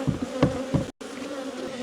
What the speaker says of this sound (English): Some flying bees.